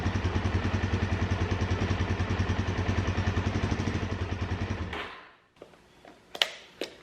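A Suzuki DR-Z 400S motorcycle engine idles at low RPM with a steady, rapid, loud thumping pulse for about five seconds, then cuts off, leaving quiet handling clatter and a couple of sharp clicks.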